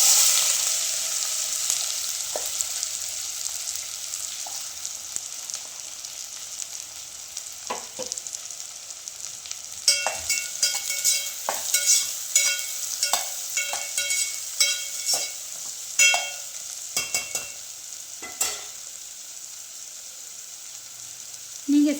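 Sliced onions frying in hot sesame oil in a heavy-bottomed pan for Pallipalayam chicken give a steady, bright sizzle, with scattered spoon clicks and scraping stirs growing busier in the second half; no one talks.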